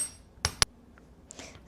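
Hammer strikes on copper wire being flattened for handmade jewelry, two sharp close metallic taps followed by a few fainter lighter knocks, alone in a quiet room.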